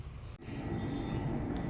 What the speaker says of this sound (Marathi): विमान आलं बघ पिल्लू